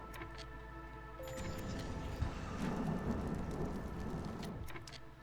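Storm weather in the video game Against the Storm, a soft wash of rain that swells midway with a low rumble of thunder, faint and steady under a distant hum, with no voices.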